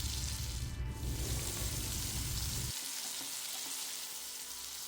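Tomatoes and peppers fry in a pan for dhaba-style egg masala, a close steady sizzle that drops abruptly to a quieter, thinner hiss partway through.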